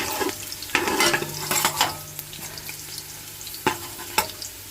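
Curry-seasoned goat meat frying in hot oil for Jamaican curry goat, a steady close sizzle broken by several loud scraping stirs, with no talking.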